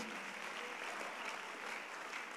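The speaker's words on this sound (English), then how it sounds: "Clap your hands for wasting time." Audience at a church vision conference claps hands in a steady, dense patter of applause that holds at an even level throughout, fairly quiet and without talk.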